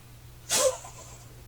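A dog has a sneezing fit indoors: one sharp, close burst of a sneeze, followed by a faint snuffle and the start of another at the end.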